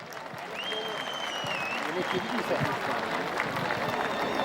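Enthusiastic crowd applause for the head wrestlers at a Turkish oil wrestling event, a dense wash of clapping from a large audience, with voices and a faint whistle carrying over it.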